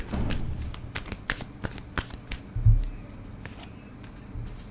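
Tarot cards are shuffled and drawn by hand in a series of quick, crisp riffles and soft slaps, close and fairly quiet, with no talking.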